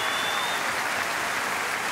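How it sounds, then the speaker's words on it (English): A concert audience at a show in Maastricht gives sustained, even applause, a broad wash of many hands clapping at once that holds steady throughout. "Give her an enormous applause."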